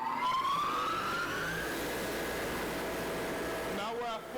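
A fire pump starts slowly, its tone rising steadily as it spins up into a continuous mechanical hum, with a soft voice near the end.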